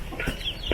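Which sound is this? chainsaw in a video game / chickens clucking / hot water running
chickens clucking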